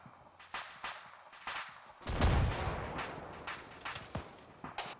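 A frag grenade goes off in ArmA 3 as a single muffled, distant blast with a rumbling tail, among faint scattered gunshot cracks and quiet movement sounds.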